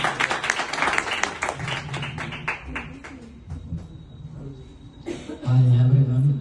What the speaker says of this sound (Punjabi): ਜ਼ੋਰਦਾਰ ਤਾਲੀ